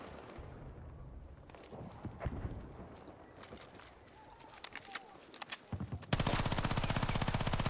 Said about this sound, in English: Whoa, why am I shooting exactly?